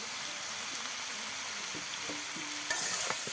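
Pumpkin and potato curry being stirred in a pan, with a steady soft sizzle of frying and occasional scraping clinks of the spoon against the pan, close and fairly quiet.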